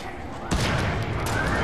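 A sniper rifle fires in the video game Fortnite, a single sharp report about halfway through, preceded by a low steady game background.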